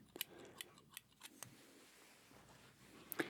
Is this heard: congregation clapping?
no